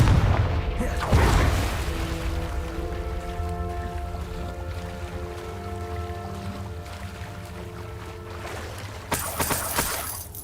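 A Confringo spell in Hogwarts Legacy bursting with a heavy booming explosion, followed by a long rumbling, ringing tail that fades over several seconds before a brighter crackling burst near the end.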